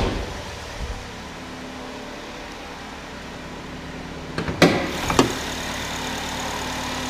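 A 2011 Chevy Malibu's 2.4 liter engine idles with a smooth, steady low hum, joined briefly by a couple of sharp clicks near the end.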